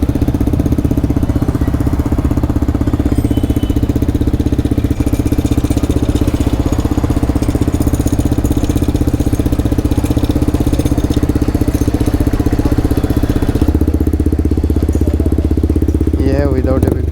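Yamaha R15 V4 motorcycle with an Akrapovic exhaust and the dB killer removed, idling loud and close with a deep, raw exhaust rumble, steady throughout, with voices faintly underneath.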